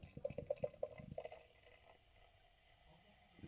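Swannay Summer in Winter, a 4.1% New Zealand-hopped pale ale, poured into a glass, with a quick run of glugging splashes at the start that settles into a soft, faint fizzing stream.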